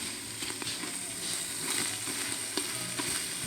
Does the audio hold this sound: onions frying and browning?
yes